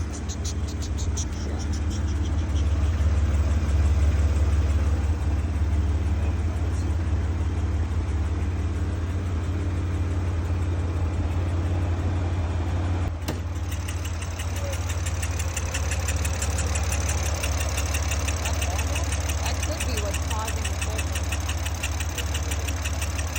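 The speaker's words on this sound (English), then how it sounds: "I'm gonna throw in a clip right now of what the car sounded like pulling into car meets and at idle" A tuned BMW X3M with an upgraded high-pressure fuel pump idles roughly nearby, a steady low rumble with a ticking, knocking undertone that shifts slightly partway through.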